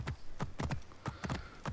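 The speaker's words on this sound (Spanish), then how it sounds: "Tengo caballo." A horse's hooves clip-clop at a steady trot across ground in Assassin's Creed Origins, crisp rhythmic hoofbeats close up with no voices over them.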